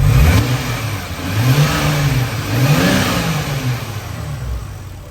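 A Toyota Supra engine idling and revving close by, a faint steady whine, likely from a bearing, power steering pump or water pump, riding above the rumble as the pitch rises and falls.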